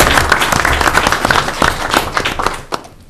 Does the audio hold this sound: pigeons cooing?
no